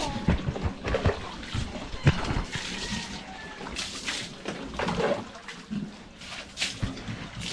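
Water runs and splashes at the chickens' drinking spot on a small farm, a close, uneven gurgling flow with people talking over it.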